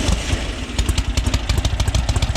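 A carbureted engine revs after a roadside carburetor rebuild, running rough and loud up close with rapid, uneven throttle blips and a clattering, pulsing beat.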